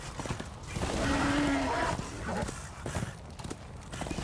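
Horse hooves clip-clop in the Darksiders 2 video game, a steady rhythmic trot along with a brief whinny, heard under game music and ambience.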